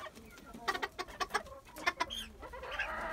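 Bantam hens in a coop cluck in a series of short, close, uneven bursts, with a few louder calls overlapping and a softer drawn-out vocalization near the end.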